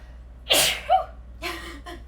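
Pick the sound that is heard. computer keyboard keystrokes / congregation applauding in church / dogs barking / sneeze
sneeze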